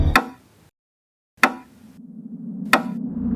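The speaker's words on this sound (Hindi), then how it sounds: "हरीश ने उस दरवाजे को खटखटाया तो सही" Three sharp knocks on a door, spaced about a second and a quarter apart, loud and close, with a low hum rising between the later knocks.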